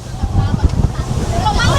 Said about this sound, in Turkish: Aşırı dalgalı deniz şu anda ve inanılmaz bir rüzgar var.